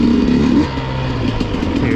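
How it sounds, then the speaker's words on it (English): Enduro motorcycle engine revving on a snowy, icy, muddy trail as the rear tire spins, a steady loud mid-pitched drone held close throughout. "Pretty much if the RPMs come up very much at all, because the rear tire's spinning."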